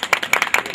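A short burst of applause in an Afghan program hall, with several hands clapping quickly and close by for under a second.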